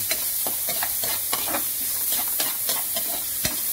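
Ginger and onion sautéing in a hot pan for Filipino tinola chicken soup, a continuous sizzle broken by repeated spatula scrapes and taps at an uneven rhythm, close and unaccompanied by talk.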